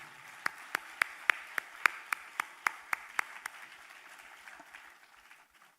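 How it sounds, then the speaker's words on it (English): Audience applause at a university conclave as a keynote speaker is welcomed to the stage, with sharp, regular claps standing out over a softer crowd patter before the clapping tapers off and fades. "Please join me in applauding"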